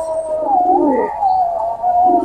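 Pakistani-breed pigeons, a young pair being set loose, give a single drawn-out, wavering coo, close and fairly loud, with no talk.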